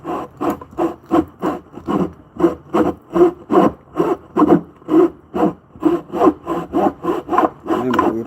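A hand saw cuts a wooden tenon from a 2x4 for a mallet, loud close rasping strokes repeating in a steady rhythm of about two per second, with no talking.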